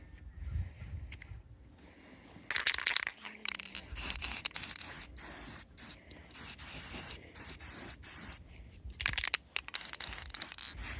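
Spray paint hisses onto a homemade kill light in several close, loud bursts separated by brief pauses, with no talking.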